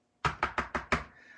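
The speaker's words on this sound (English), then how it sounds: "The pig knocked on the door and grunted." Five quick sharp knocks on a door, evenly spaced and close, ending with a faint lingering tone.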